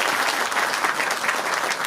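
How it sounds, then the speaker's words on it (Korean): Continuous applause from an audience at a book concert held by an election candidate, dense and steady clapping from many hands throughout, with no voices over it. "큰 박수 보내주시기 바랍니다"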